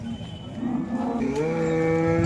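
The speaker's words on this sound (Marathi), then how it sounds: "एक बाजारामध्ये गाय आहे" A cow moos with a long, loud, rising call at a busy cattle market in Modnimb, the lowing sustained and steady against a crowded background din.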